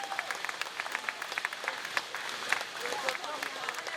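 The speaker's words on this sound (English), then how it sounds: "104-year-old Joseph Williams arriving at the Aero Center bright and early on Honor Flight Day to a crowd full of cheer." A crowd cheers and applauds at the Aero Center on Honor Flight Day as a 104-year-old veteran arrives, scattered claps and cheers across the whole stretch, moderately close.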